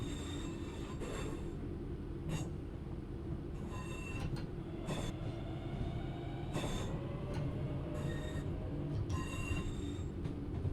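Wheel flange squeal from a train in Train Sim World 3 on the Birmingham Cross City line, thin metallic screeches rising and fading repeatedly over a continuous rolling rumble of the train, with no voices.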